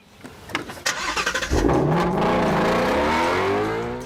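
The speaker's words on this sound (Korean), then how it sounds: "8기통은 회전 질감이 물론 부드럽기도 하지만 순정 상태에서도 이 막 으르렁거리는 배기음이" A V8 engine cranks with a few quick uneven bursts, then catches and settles into a loud, deep growling exhaust note that holds steady for several seconds before easing off slightly at the end.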